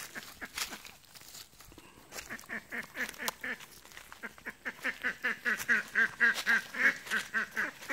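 Ducks quack in a steady stream of rapid calls, growing louder and denser toward the end, fairly close by.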